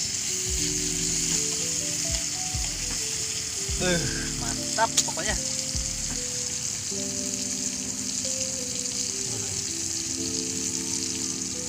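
Jellyfish stir-frying in a pan, a continuous sizzle with occasional stirring scrapes and clinks, heard under someone speaking and background music tones.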